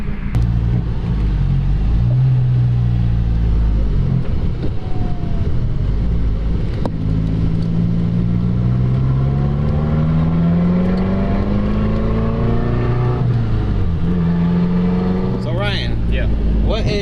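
A Mazdaspeed 3 engine fitted with an XS Power turbo manifold runs with a loud, continuous drone, its pitch rising and falling as it revs and pulls, heard from inside the car with people talking over it.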